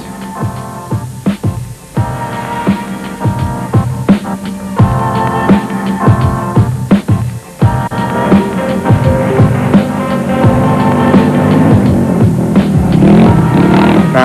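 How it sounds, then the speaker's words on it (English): Rally motorcycle number 39 at the 2001 Dakar Rally, ridden through a quiet village in Mauritania, its engine droning and revving loudly and steadily throughout with music-like tonal layers over it. "Now here we see motorcycle number 39, Frenchman Eric Rosselet, going through one of the very quiet villages"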